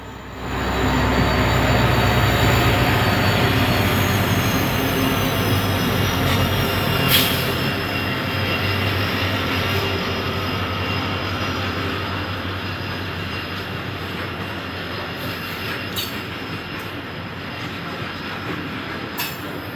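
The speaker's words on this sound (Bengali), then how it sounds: "আস্তে আস্তে ধীর গতিতে এই ট্রেনটি এগিয়ে যায় ময়নাপুর স্টেশনের" A goods train rolls slowly toward a rural station, wheels squealing thinly on the rails over a steady low rumble of wagons that gradually fades a little over about twenty seconds, with no voices.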